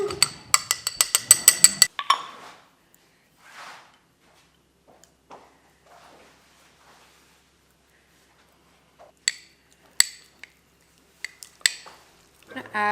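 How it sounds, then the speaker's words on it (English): A spoon mixing banana fruit spread with almond butter clinks rapidly against a bowl in a quick burst, then gives sparse faint taps and scrapes separated by near silence. "I'm gonna mix it with some classic almond butter."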